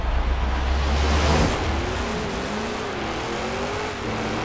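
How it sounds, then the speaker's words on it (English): A Jeep Cherokee Trackhawk and a Lamborghini Urus launch side by side in a quarter-mile drag race in Forza Horizon 4, a loud, steady engine roar with a rising whine as the SUVs pull away. "The standard quarter mile drag race."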